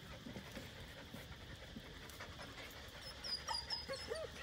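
A Rottweiler pants softly and steadily against a noisy background, with a few faint whimpers near the end.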